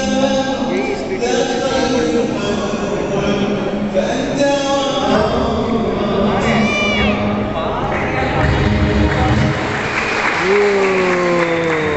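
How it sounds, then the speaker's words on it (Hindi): Applause at the Qatar pavilion at Expo 2020 Dubai, a steady crowd clapping mixed with music and singing voices, with people talking nearby. "अच्छा, हमें लगा कि ये ट्रैक चल रहा है, गा रहा है, इसीलिए तालियां बज रही थी।"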